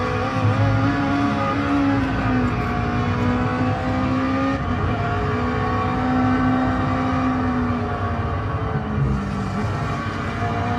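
Steady engine drone from a car in a driving simulator game at the IFA 2013 electronics fair, a continuous hum with shifting pitch that holds throughout without any talk.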